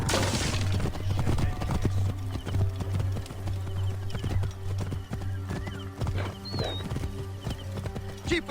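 Horses gallop in the video game Assassin's Creed Origins with a fast, continuous clatter of hooves, occasional whinnies and game voices mixed in.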